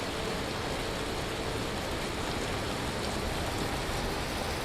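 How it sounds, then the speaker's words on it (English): Hail pelting down in a video game world, a steady dense hiss of countless small impacts that stays loud and unbroken throughout, with no voices over it. "It's hailing, so I may start taking damage here."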